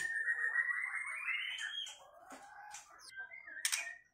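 A tame white-rumped shama (murai batu) sings close by, with a rising run of whistled notes followed by short varied chirps and calls, clear and alone against a quiet background.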